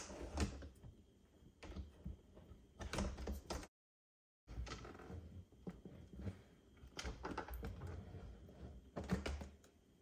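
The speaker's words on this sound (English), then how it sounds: "So I'm going to pull the drawer all the way out and then lift the front up." A kitchen drawer slides out on its runners and is tipped up at the front, giving a couple of scraping, clattering bursts close by with short pauses between them.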